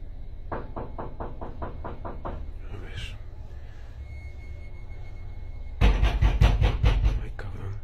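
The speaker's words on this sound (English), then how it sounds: "The knocks then begin to come from the front door." Loud knocking on a front door: a quick run of about ten even knocks, then a pause with faint room noise, then a heavier burst of six or seven louder, closer bangs.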